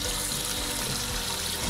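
Tap water runs steadily into a sink while a cast iron pan is rinsed, a constant close splashing rush with faint shifts as the pan moves under the stream, no talking.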